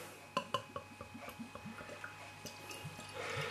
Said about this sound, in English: Let's give it a pour.